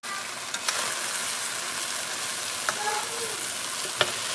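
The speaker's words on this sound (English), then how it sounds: "I got more pork chops to sear" Pork chops sear in a hot pan with a steady, close, dense sizzle and a few faint sharp pops and clicks.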